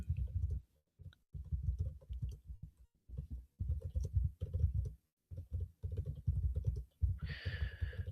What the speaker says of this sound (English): I hope you can't hear my typing